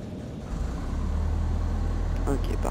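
A Robin DR400 light aircraft's engine in a flight simulator game hums as a steady low drone right after starting, constant and moderately loud throughout.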